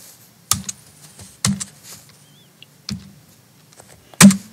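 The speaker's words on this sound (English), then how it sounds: "and then start hitting enter and typing." Computer keyboard keys tapped in a quiet room, with a few sharp, separated key presses including Enter spaced about a second apart, close and clear with no talking.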